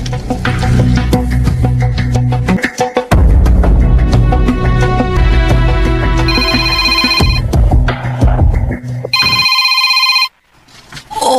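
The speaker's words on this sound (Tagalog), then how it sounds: "Oy, ang gamay na kong cellphone nga keypad ni Tingog." A small keypad cellphone rings loudly in a radio drama, its electronic ringtone warbling in repeated bursts amid dense background music, then cutting off abruptly near the end before a short quiet gap.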